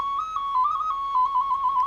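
A small souvenir clay whistle at a Belarusian folk-craft village is blown in a steady, bright, shrill tone that wavers slightly in pitch, sounding close and clear for about two seconds with no talking.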